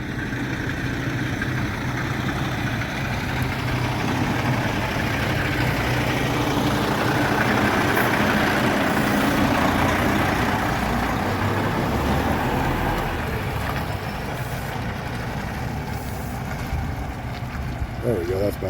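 A truck engine runs steadily while the truck backs under a trailer, a continuous rumbling drone with wind-like noise, loud and unbroken throughout, with a voice talking over it.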